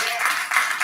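A church congregation applauds, giving God a round of applause after people pray to receive Jesus; a brief, dense wash of clapping fills the room with no gaps.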